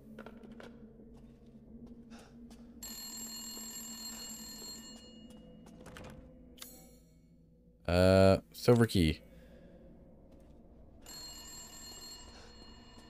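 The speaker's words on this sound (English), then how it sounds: "We're not answering the damn phone." An old-style telephone bell rings in the video game Resident Evil Village, sounding in a couple of bursts amid quiet game ambience. A voice speaks briefly over it.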